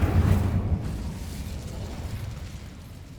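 In Hogwarts Legacy, the Incendio fire spell is cast as a dull, rumbling whoosh that bursts at once and then fades into a low, steady roar.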